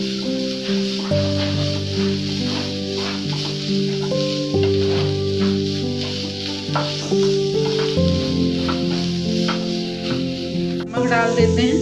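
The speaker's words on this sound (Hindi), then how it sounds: "1 मिनट के लिए हल्का सा इनको हम भून लेंगे। अब इसमें हम शिमला मिर्च भी डाल देते हैं।" Vegetables and chopped bell pepper stir-frying in a pan for paneer spring rolls, a steady close sizzle with repeated stirring scrapes, under background music.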